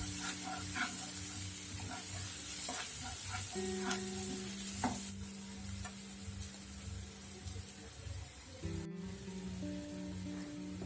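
Onion garlic masala and pepper powder are stirred in a hot pan, a steady sizzle with scraping strokes and occasional clinks, close and without speech.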